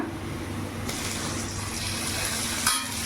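Onions frying in a pan for dhaba-style shahi paneer give a steady, close sizzle with a soft hiss throughout, briefly stirred near the end.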